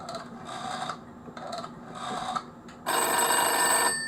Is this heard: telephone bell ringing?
yes